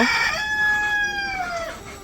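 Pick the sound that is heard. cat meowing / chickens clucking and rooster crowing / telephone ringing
chickens clucking and rooster crowing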